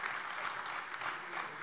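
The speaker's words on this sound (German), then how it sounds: "Ich finde, ja, Sie klatschen." Steady applause fills a German state parliament plenary session in Hesse for the full moment, a dense, even patter of many hands with no pause, heard from within the chamber.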